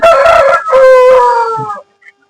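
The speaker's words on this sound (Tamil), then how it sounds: "ஒரு வெள்ளை கட்டையும் ஒரு பூதி சேவல் குஞ்சு" A young rooster on a farm gives one loud, close crow lasting under two seconds, followed by a faint chirp and then quiet.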